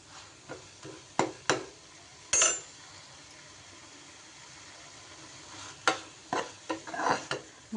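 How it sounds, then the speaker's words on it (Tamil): Palak greens fry quietly in a little oil under a soft sizzle, with intermittent scraping and knocking strokes of a large ladle stirring them. "நான் நல்ல பெரிய கரண்டியை எடுத்து தான் வறுக்கிறேன்"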